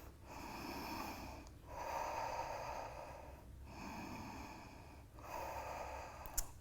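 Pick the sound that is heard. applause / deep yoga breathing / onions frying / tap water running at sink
deep yoga breathing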